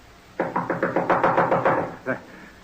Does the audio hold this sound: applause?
no